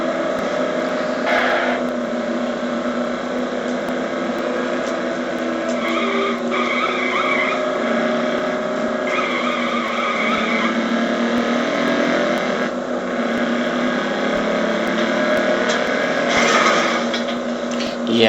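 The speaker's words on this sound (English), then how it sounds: "the cars sound like an Nintendo 64 game" Cars skid with tire squeals in the video game Mercenaries 2, producing dated, tonal engine and screeching sounds that rise and fall in repeated bursts over a steady mechanical drone at fairly high level.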